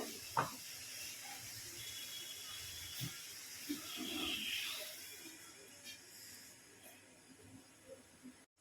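A covered pot of egg and taro curry with tomatoes simmers with a faint, steady hiss of steam. Occasional light clicks and small bubbling pops sound close by and quiet.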